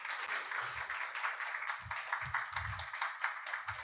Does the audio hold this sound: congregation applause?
yes